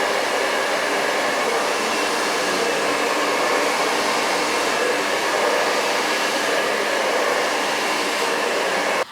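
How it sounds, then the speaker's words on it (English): A hair dryer blowing hair in a salon roars in a steady, loud, unbroken whoosh for the whole stretch, with no voices. "So he blow dried my hair,"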